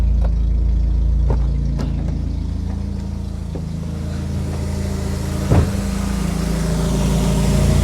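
A car engine idles roughly with its fuel injector firing, heard up close from the engine bay as a steady, low rumbling drone with uneven pulses and a brief knock near the end. No one speaks.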